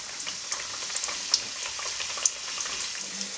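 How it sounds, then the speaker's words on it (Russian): A cheburek frying in hot oil sizzles in a soft, steady crackle with scattered small pops, fairly quiet and close, with no talk. "И отправляем его в раскаленное масло."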